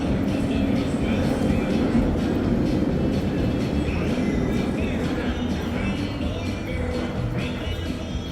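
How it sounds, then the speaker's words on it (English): Millennium Force roller coaster at Cedar Point running empty test laps before the park opens, heard as a steady, loud rumble of cars on track with clattering, rail-like roar throughout, and some people's chatter beneath. "soon enough the big rides started their test runs as the park got ready to open"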